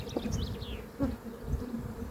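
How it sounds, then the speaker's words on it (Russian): Honeybees hum and buzz inside a hive holding a newly caught swarm, a close, steady droning with individual bees whirring past, fairly soft. "пчелы уже активно ее застраивают"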